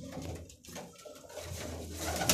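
A loft of many pigeons kept for flying coos as a soft, steady murmur under a broad noisy background, with no voices.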